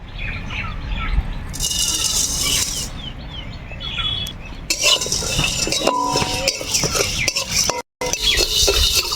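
A spoon stirs and scrapes dry cardamom, black pepper and coriander seeds around a pan in a home kitchen, giving a continuous rustling, clinking sound with a few sharp metallic knocks and a brief break near the end.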